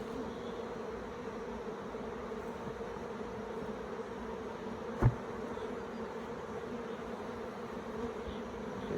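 Honeybees buzz continuously around an open, crowded hive in a dense, steady hum close by, with one brief knock partway through.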